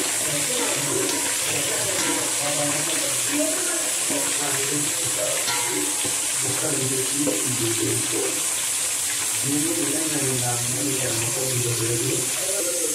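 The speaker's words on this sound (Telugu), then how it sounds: "కొత్తిమీర, ఇదంతా బాగా ఆయిల్లో వేయాలి" Coriander and other ingredients frying in oil for mutton dum biryani give a constant loud hiss and sizzle, while a person talks over it throughout.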